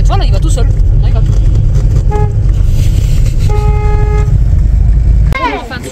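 A car horn honks in short repeated toots, then a longer sustained blast, loud and close over steady road and engine noise with people talking nearby.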